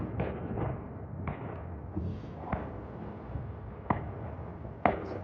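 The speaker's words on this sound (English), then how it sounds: "As you can hear in the background, all the fireworks going off." New Year fireworks thud and crack at a distance outdoors in the rain, six or so separate muffled bangs spaced irregularly over a low rumbling background.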